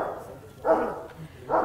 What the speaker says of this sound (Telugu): అమ్మో, మీ డాగ్స్ వస్తున్నాయా?